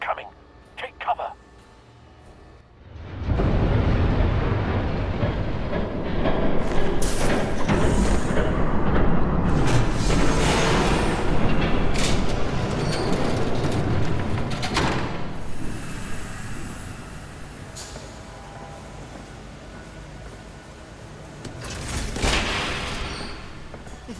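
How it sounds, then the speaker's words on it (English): A train approaches in the video game Batman The Telltale Series, a heavy sustained rumble that swells in loudly and holds for many seconds before easing, with clanks and bursts riding on top. "There's a train coming."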